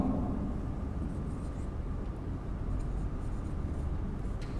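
Marker or chalk writing on a classroom board during an English grammar lesson, a steady soft scratching that runs continuously and fairly close, with low room hum beneath.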